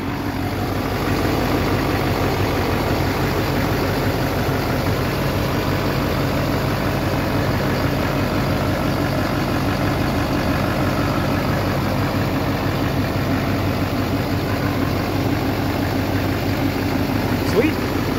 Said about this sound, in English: being a big old diesel, it's gonna be a little loud